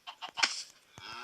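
Minecraft chickens in a survival village give a few quick, soft clucks and squawks in close succession, clear and unaccompanied.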